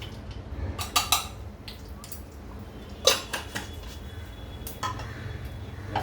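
Poppy seeds being dry-roasted in a pan for ukadiche modak, with a few light metallic clinks and scrapes of a utensil against the pan over a quiet background.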